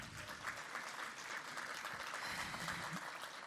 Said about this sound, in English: Can we give Charles another round of applause,